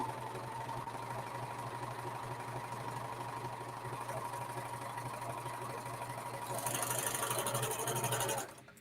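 A Pfaff serger stitches fabric with a steady, fast mechanical hum and whir that runs on at an even pace, then rises briefly louder near the end before stopping.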